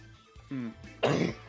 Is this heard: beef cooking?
no